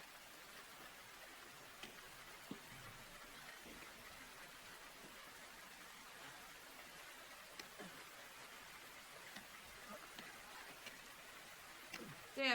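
Steady rain falls in a scene from the TV series Squid Game as a soft, even wash with occasional faint drop ticks, quiet and continuous throughout.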